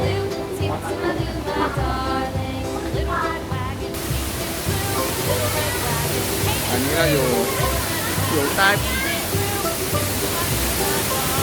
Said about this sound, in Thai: อยู่ใต้น้ำตกครับ